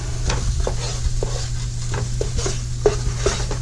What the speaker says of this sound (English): Kind of making a roux here is kind of what we're doing.